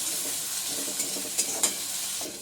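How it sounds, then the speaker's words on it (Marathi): Crushed green chili thecha is stir-fried in a hot pan, giving a steady close sizzle with a few light scrapes from the stirring spoon. "थोडेसे हलवून घ्यायचे, परतवून घ्यायचा ठेचा।"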